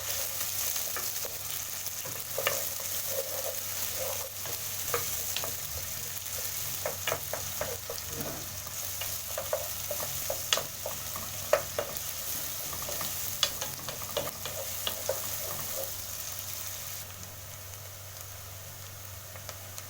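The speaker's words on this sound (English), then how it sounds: "my oil is hot enough, you start by frying your onions." Steady sizzling of onions frying in hot oil, with occasional stirring scrapes and crackles over a constant hiss.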